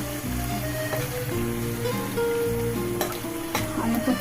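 A pan of chili chicken with capsicum sizzles and fries steadily up close, with vinegar added and occasional stirring clinks over the constant hiss, no voices.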